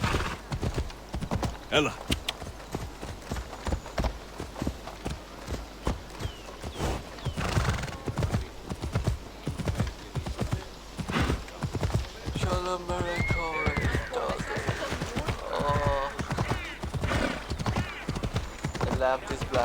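Horse hooves pound at a fast gallop in Assassin's Creed Odyssey, a steady near rhythm running throughout with a neigh and game music, while someone talks over it.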